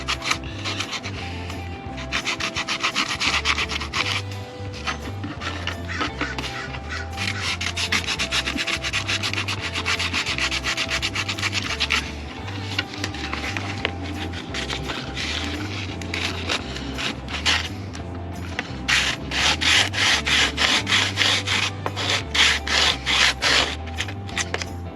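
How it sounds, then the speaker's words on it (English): Sanding the anodized corrosion layer off aluminum cylinder heads from a Ford 5.4 L engine, a continuous abrasive rubbing and scraping with a steady motor drone underneath, in fluctuating bursts that grow harsher toward the end. "Need to get the anodized layer, corrosion layer off before we can weld"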